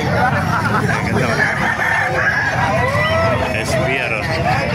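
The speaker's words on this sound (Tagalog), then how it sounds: "Pakita ko sa inyo mga manok dito sa Kalupit." Roosters at a poultry market in Calumpit, Bulacan, where fighting cocks are sold, with crowing calls rising over a dense, steady crowd hubbub and voices throughout.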